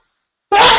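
A single abrupt, forceful sneeze erupts after a stretch of silence, loud and close, during an online class session.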